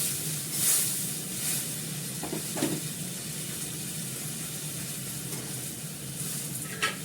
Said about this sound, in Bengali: দেবো গরম জল, অল্প করে জল দিলাম।